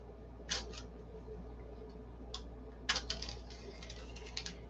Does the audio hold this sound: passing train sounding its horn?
no